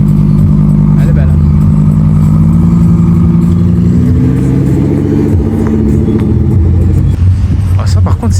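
Lamborghini engine running with its exhaust valves open at a Cars and Coffee 2024 meet, a loud deep rumble with shifting revs throughout, under talk.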